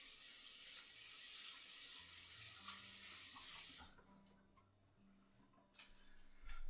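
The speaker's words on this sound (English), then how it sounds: "let's rinse my hands" Hands are rinsed under a running water tap: a steady hiss of flowing water for about four seconds, then it cuts off abruptly, leaving a quiet room with faint ticking and a few small clatters.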